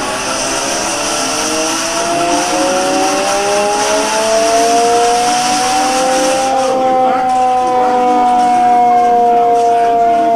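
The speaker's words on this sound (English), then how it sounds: "He seems to be teaching this young recruit how to use an air raid siren." A loud, wailing hand-cranked air raid siren rises and falls in pitch continuously, its whine sliding up and down with a slight mechanical roughness.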